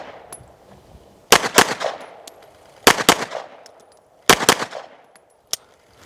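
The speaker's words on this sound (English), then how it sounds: "I can't see with like a dot, so I'm just shooting" Pistol gunshots at an outdoor shooting range, loud close cracks fired in three quick strings of several rapid shots, with a final single shot and brief pauses between strings.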